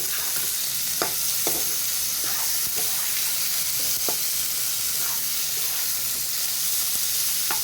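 Spices for chicken biryani fry in a pan, giving a loud, steady sizzle with occasional light crackles and stirring clicks throughout.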